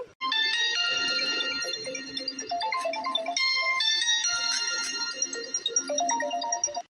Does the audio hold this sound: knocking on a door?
no